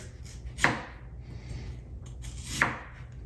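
Two crisp knife strokes slice through soft mango flesh near the pit, a couple of seconds apart, close and fairly quiet against light room noise.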